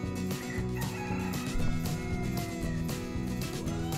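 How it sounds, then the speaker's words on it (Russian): Domestic fowl in a farmyard, repeated rhythmic clucking calls in short bursts, fairly close and steady across the whole stretch, with no talking. "Какие милые животные птицы живут у Машеньки и Ванюши"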